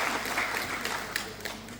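A short burst of audience applause fills a hall at a public speech, steady moderate clapping from a crowd heard at some distance throughout.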